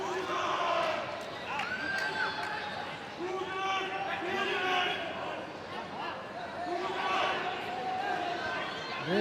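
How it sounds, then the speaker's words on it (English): Spectators at a Muay Thai fight in Rajadamnern Stadium chant rhythmically in repeated rising calls, a steady crowd roar filling the hall while a commentator talks over it. "Hear the crowd, or a member of the crowd, chanting for Choojaroen right now."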